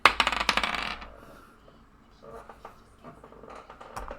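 Dice roll across a tabletop during a fantasy role-playing session, giving a quick flurry of close, sharp clattering clicks in the first second, then scattered soft taps and faint voices in the background.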